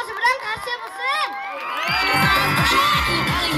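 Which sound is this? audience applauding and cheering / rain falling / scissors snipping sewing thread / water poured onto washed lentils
audience applauding and cheering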